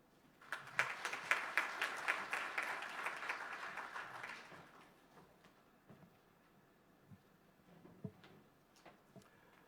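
Brief applause from a conference audience at the official opening of a regional meeting, moderate clapping for about four seconds that fades into quiet room noise with a few faint knocks and stirrings.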